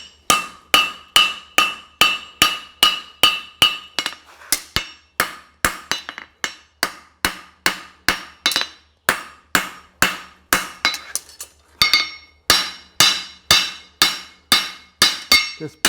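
A hammer forges a horseshoe on an anvil in a smithy, landing about two sharp ringing metallic blows per second in a steady rhythm, each strike close and loud with a bright clang, under a faint low hum.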